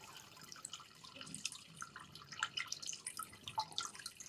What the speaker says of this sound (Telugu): బట్ ఆ వాటర్ సౌండ్ కూడా మనం అబ్జర్వ్ చేసి నేను మీకు వినిపిస్తాను చూడండి